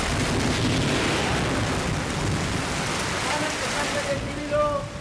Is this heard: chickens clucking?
no